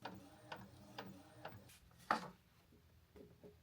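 An Epson ET-2850 inkjet printer running a card print job on photo matte paper, giving soft repeated mechanical ticks and clicks about every half second, then a sharper clack of the paper feed, all quiet and close with no talk.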